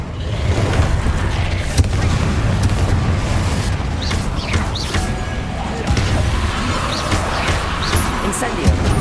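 Spell explosions from Confringo blasts in Hogwarts Legacy boom and crash one after another, thick and loud, with combat noise and sharp impacts layered over spoken voices throughout.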